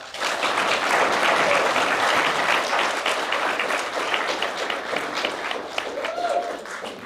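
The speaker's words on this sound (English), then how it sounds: "One more round of applause for them both, please" A large audience at a teacher excellence award ceremony applauds continuously, a dense wash of clapping that stays strong throughout and tapers slightly near the end.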